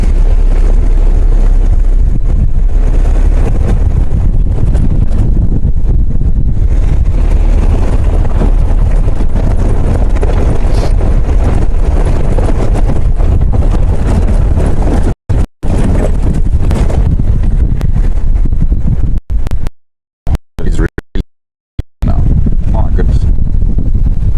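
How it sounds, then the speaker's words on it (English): Strong wind roars and buffets the microphone continuously on an open safari airstrip, loud and rumbling, with brief dropouts near the end. "Too windy on the airstrip."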